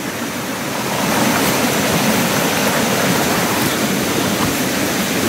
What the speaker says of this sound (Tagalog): Ito na yung sapa mga tol.